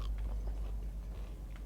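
Someone bites and chews crunchy Pak Mor noodles at a Bangkok Thai-Viet street food stall, with soft, close, irregular crunches and mouth sounds over a low background rumble.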